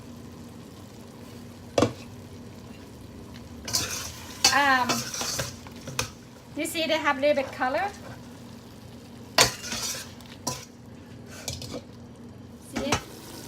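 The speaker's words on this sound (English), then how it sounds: "It's boiling now." Beef cooking in a pot for a Lao dish, with stirring, scraping of utensils against the pot and soft bubbling, interrupted by sharp clinks and spoken commentary throughout.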